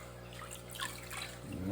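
Water running and splashing as a fish tank filter sponge is rinsed and squeezed out, a short, steady wash at close range with no talking.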